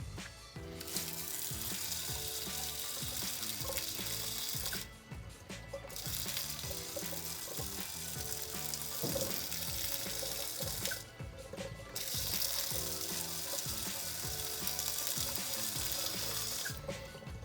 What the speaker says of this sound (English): I'm now going to flush water through my faucet for about 10-second intervals